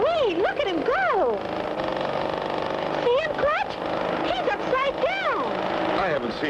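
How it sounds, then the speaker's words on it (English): Propeller airplane in a 1959 cartoon soundtrack performing barrel rolls and snap rolls, its engine drone rising and falling in swooping pitch bends, loud and continuous with voices talking over it. "Whoever's piloting that plane's either awfully good or terribly out of control."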